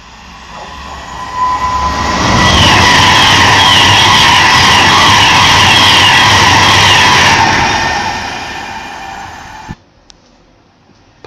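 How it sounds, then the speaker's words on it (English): A London Midland Class 350 electric train passes through at speed near Crewe. A loud, swelling rush of wheels and motors peaks for several seconds, then fades away, ending with a faint clunk. "Passing through now is a 350 from London Midland."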